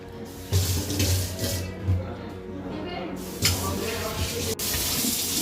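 Tap water runs steadily into a sink while someone splashes and plays with the stream, producing bursts and surges over the flow. Voices talk in the background.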